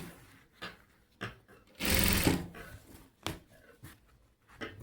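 A sewing machine stitches blouse lining along the edge, one loud sustained run of stitching framed by short clicks and handling noises, close by.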